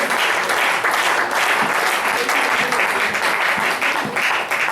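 A church congregation breaks into loud, sustained applause in praise of Jesus, a dense, steady wash of clapping from many hands that fills the room for several seconds without a pause.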